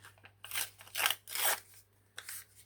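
Coffee-dyed paper is torn in short bursts at a craft table, giving four or five close, dry ripping and crunching strokes separated by brief pauses, fairly faint and without talk.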